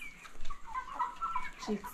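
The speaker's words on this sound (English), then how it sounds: "how do you call this breed? is a Kuroiler" Kuroiler chickens, a dual-purpose breed kept on a poultry farm, cluck and murmur close by in a short run of rising and falling calls, with no talk.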